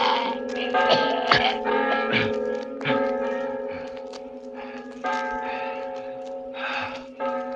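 Church bells ring in an old radio drama about murder, with clear sustained metallic tones that overlap and linger under a few gasps and faint vocal noises.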